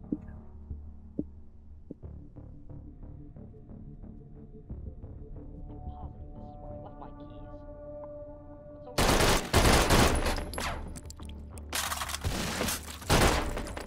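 SMG gunfire in the VR shooter H3VR, Take & Hold mode: a steady rhythmic ticking, then loud, dense automatic bursts that fill the last few seconds.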